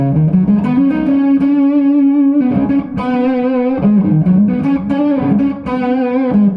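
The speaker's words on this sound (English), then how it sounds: "It's sounding like asymmetrical distortion like a fuzz has, but with the back down sound of the guitar" Electric guitar through an asymmetrical fuzz distortion pedal, guitar volume turned down, sustained buzzy notes sliding between pitches, loud and continuous with no voices.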